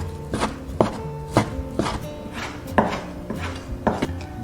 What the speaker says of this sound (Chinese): 然后翻面，朝90度的方向直接给它切断，尽量切得细致一点